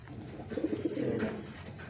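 A young racing pigeon coos softly and low, a brief throaty rolling murmur close by amid faint loft background noise.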